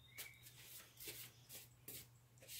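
A deck of tarot cards being shuffled during a reading, with soft, repeated riffling bursts that come and go, faint and close, with no talking.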